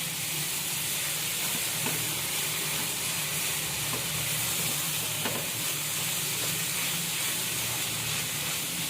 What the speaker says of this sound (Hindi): अब ये भी डाल देंगे, सोया सॉस डाल देंगे, ये चिली सॉस। इसको भी मिक्स कर लेंगे।